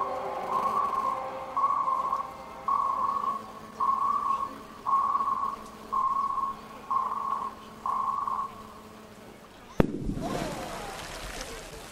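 Sonar echo sounder pings from a model warship display sound as a string of evenly spaced steady tones, about nine in a row, followed by a sudden loud bang and crackling bursts.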